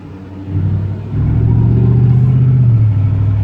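A Buick Lucerne's engine runs while the car drives, a steady close rumble that steps up in loudness twice in the first second, then holds a smooth, continuous drone.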